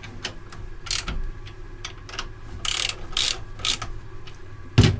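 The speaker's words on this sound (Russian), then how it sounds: "Теперь относительно плотно затягиваем гайки крышек подшипников." Ratcheting wrench clicks while bearing cap nuts are snugged down on the rear axle final drive of a VAZ Niva, coming in short bursts of quick metallic ticks with brief pauses between them, close and moderately loud.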